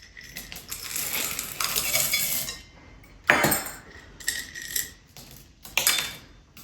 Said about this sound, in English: so we mix in our chocolate chip